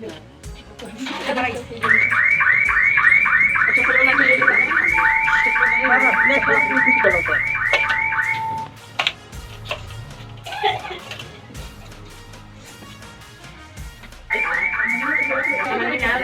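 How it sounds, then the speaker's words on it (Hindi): A loud, warbling siren wails steadily for several seconds, cuts out, then returns near the end, with people talking underneath. "ये जो सायरन सुनाई दे रही है वो एक्चुअल में गाड़ी की आवाज़ है"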